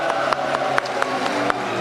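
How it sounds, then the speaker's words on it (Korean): Applause and cheering from the audience at a Bareun Party leadership debate in Daegu, a steady crowd roar with sharp claps pulsing through it, moderately loud and carrying on alone without talk. "다시 한번 뜨거운 박수 함성 부탁드리겠습니다"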